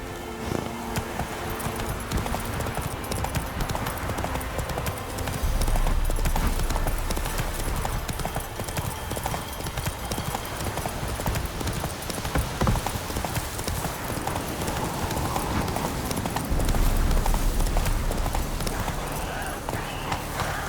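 Hoofbeats of Roach, a horse in The Witcher 3 video game, clip-clopping in a steady fast rhythm throughout, loud and close over a bed of game music and ambience.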